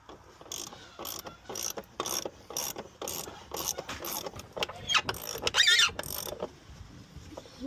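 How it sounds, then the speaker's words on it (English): Socket wrench ratcheting to tighten a Pentair pool filter assembly: a close series of crisp, evenly spaced clicking strokes that quicken into a dense burst of rapid ratchet clicks near the end, then stop. "Tighten this assembly with your 7/8 socket wrench."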